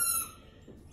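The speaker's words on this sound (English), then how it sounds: "excuse the dog's squeaking toy, he's playing now" A brief high-pitched squeak from a dog's squeaky toy, quick and fairly faint, followed by a short second squeal at the end.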